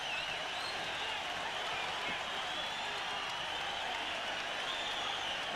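A boxing arena crowd roars continuously after a fighter is knocked down in a bout, a dense wall of cheering and applause that stays loud and steady throughout with no clear individual voices.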